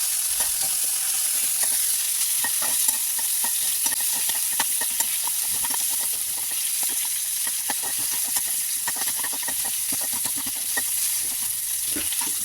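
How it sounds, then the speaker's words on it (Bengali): Chopped onions frying in hot oil for chilli potato, a continuous close sizzle and hiss with frequent small clicks and scrapes of stirring running steadily throughout. "এবারে দিয়ে দিচ্ছি আমি পেঁয়াজ, কেটে রাখা পেঁয়াজগুলি। 1 মিনিট নেড়ে চেড়ে দেবো।"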